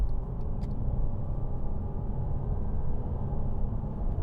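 A 2009 Mercedes-Benz E-Class 3.0 diesel engine runs with a steady low rumble, close and continuous, with no voices over it.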